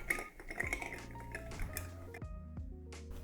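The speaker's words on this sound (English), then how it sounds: "I'm gonna take our nice big rock of ice and a spoon and stir it down." Ice clinks and rings against glass as a spoon stirs a White Negroni cocktail over a big rock of ice, with clear bright tinkling tones close up and no talking.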